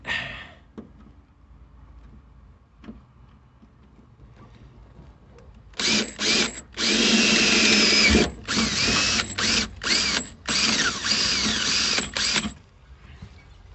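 A power drill bores a hole for a seat belt install in a 1955 Chevy pickup, running in loud close bursts with short stops between them, after several seconds of quiet shop sounds.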